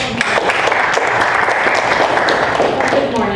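Audience at a college first-year seminar session bursting into loud, sustained applause, dense clapping filling the room with a speaking voice partly audible underneath.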